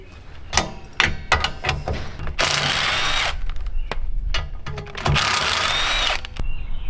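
A ratchet loosens 14 mm bolts on a Honda Fit's rear suspension. Quick clicking strokes alternate with two longer, loud, rasping spins, all close and unaccompanied by talk.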